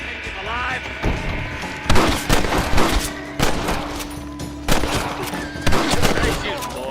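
A loud video-game gunfight in Red Dead Redemption, with repeated sharp gunshots in quick volleys and clusters across the scene, while voices speak between them.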